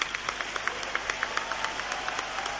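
An auditorium audience applauds steadily throughout, dense clapping from a large crowd with a few sharper claps standing out.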